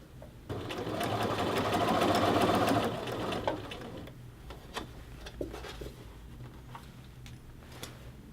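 A sewing machine edge-stitches the collar band of a men's shirt in one close, steady run of fast stitching that lasts a few seconds. Light ticks and handling noises follow as the fabric is adjusted.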